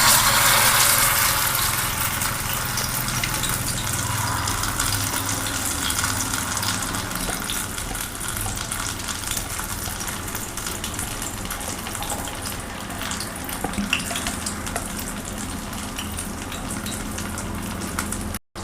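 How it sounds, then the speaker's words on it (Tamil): A chicken leg lollipop fries in oil in a kadai over a gas flame, giving a continuous loud sizzle and hiss that stays steady throughout, with no talking. "சிக்கன் லெக் பீஸ் லாலிபப்க்கு கடாயில் எண்ணெய் ஊற்றி கேஸ் ஆன் பண்ணியாச்சு. இப்போ ஒரு பீஸை போட்டுடலாம்."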